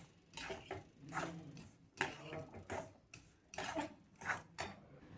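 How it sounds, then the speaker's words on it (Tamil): Grated coconut and ground ash gourd batter being mixed by hand in a bowl, heard as uneven bursts of wet scraping and light clinking against the bowl, repeating in short strokes with quiet pauses between them. "எல்லாத்தையும் நல்லா கலந்துக்கலாம்."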